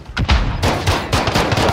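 Rapid bursts of gunfire in the battle royale video game Warzone, loud and dense, with repeated volleys across the clip and no clear speech.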